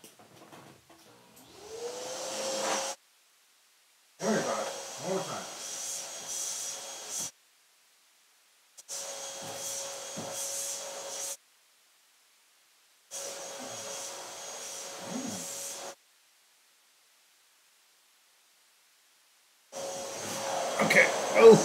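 A Neabot P1 Pro pet grooming vacuum sucks up pet hair in repeated bursts of steady suction hiss, switching on and off with silent gaps between. Near and moderately loud.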